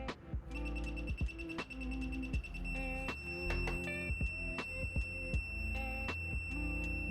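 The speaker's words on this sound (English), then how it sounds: "it started beeping at me, and it would not stop no matter what I did." A high electronic beeping alarm from an Ender 3 V2 3D printer sounds repeatedly over a steady mechanical hum, with short pulsed tones continuing without pause.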